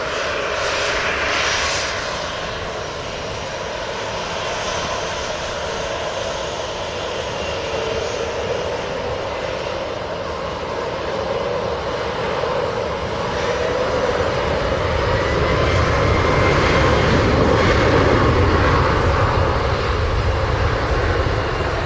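An airliner takes off at Montego Bay, Jamaica, its engines a deep, broad roar that builds steadily in loudness over about twenty seconds, heard from a distance outdoors.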